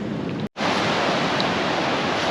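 Ocean waves breaking near an island, a steady broadband wash of surf that fills the whole stretch, with a brief dropout partway through before the roar resumes.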